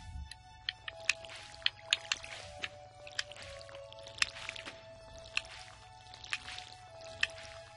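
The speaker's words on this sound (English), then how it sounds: "Oh, I didn't water my flowers." Flowers are watered in the video game Stardew Valley, a series of soft splashy sprinkles repeating at a steady rhythm, about a dozen short wet bursts over a faint constant background tone.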